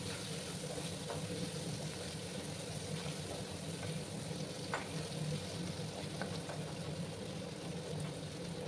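Vegetables with ginger and tomato sizzle and sputter steadily in a hot pan for a paneer mixed-vegetable dish, a continuous close frying hiss with occasional pops and stirring scrapes and no talk.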